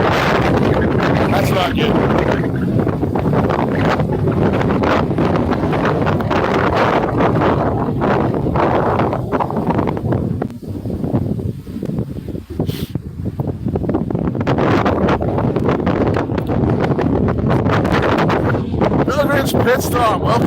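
Strong wind roaring across open ice at an ice-fishing spot, buffeting the microphone in a loud, continuous rush with brief dips, while someone speaks briefly.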